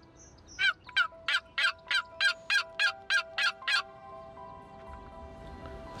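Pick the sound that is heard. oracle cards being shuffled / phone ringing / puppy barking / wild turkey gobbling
wild turkey gobbling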